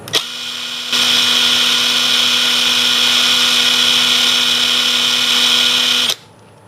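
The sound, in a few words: DCA ADPL14E cordless impact driver running at no load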